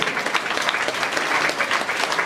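Audience applause at the inauguration ceremony of the Cayenne aquatic centre, a dense, steady wash of many hands clapping close by, continuous and loud with no talk.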